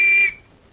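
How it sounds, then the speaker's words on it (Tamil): A whistle blown in one short, shrill, loud blast that cuts off sharply, leaving a brief fading tail. "அப்புறம் ஏன் விசில் ஊதுற?"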